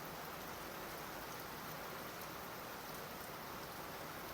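Heavy, steady rain pours during monsoon flooding with a high tide, a dense continuous hiss of drops on surfaces with no pauses throughout.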